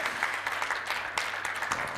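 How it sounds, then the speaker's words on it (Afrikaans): A church congregation claps hands together, a brief, continuous patter of many hands at moderate volume with no talk. "gee die Here 'n lieflike hande klap in"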